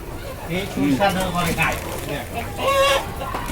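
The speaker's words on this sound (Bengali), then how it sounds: "দেখেন সবই হচ্ছে পাহাড়ি মুরগি" Hill chickens on a farm cluck and call in short bursts close to the microphone, mixed with someone talking over them.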